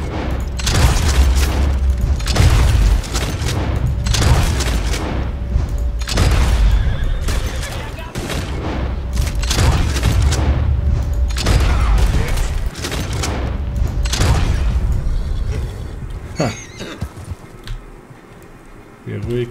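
Loud gunfire in Red Dead Redemption 2 bursts repeatedly over rumbling booms, dense volleys of shots filling most of the stretch before thinning out near the end.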